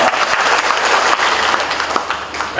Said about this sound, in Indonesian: Kita beri tepuk tangan Pak.